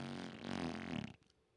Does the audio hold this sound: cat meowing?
no